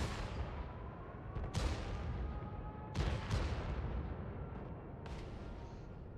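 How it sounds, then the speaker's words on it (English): A tank shell slams into the side of an armored tank during a competitive tank battle game, one of several sharp distant cannon cracks and impacts ringing out over a low rumbling battlefield backdrop. "Looks like the E100 did get a good shell into the side of the Valor here"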